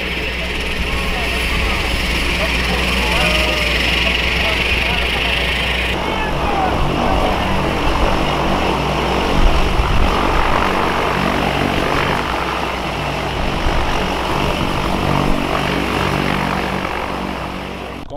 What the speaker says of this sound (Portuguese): o avião já está contornando com o Hugo Mil Grau lá dentro